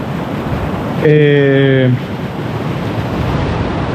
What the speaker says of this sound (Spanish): Y finalmente llegamos a esta cascada.